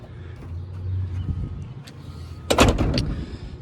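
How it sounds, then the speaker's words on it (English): Seat being flipped inside the cab of a Ford F-150 pickup, a short loud clunk and rattle of the seat mechanism after low rustling and handling noise. "Let me flip the seat here"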